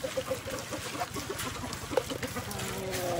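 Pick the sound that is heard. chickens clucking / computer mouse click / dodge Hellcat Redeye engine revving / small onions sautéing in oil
chickens clucking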